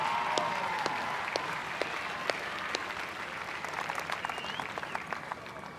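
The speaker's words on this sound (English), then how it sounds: "Give her an applause." A crowd applauding at a women's State of Origin rugby league match between Queensland and New South Wales, a steady wash of clapping with a few sharper individual claps standing out, heard from a moderate distance.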